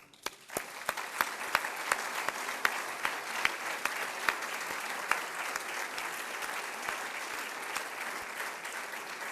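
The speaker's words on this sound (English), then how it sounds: "So please help me applaud their efforts." Applause at a college State of the College event, fairly quiet and distant, with sharp individual claps standing out regularly over a soft bed of clapping from the room.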